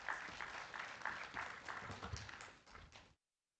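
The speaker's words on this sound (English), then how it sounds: "Please give him a round of applause." A conference audience at a climate governance summit applauds a keynote speaker, a brief burst of faint, fairly distant clapping that stops abruptly after about three seconds.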